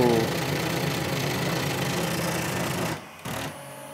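A steady mechanical whirring and buzzing of small 3D printer motors runs continuously, then briefly drops out and resumes more quietly near the end.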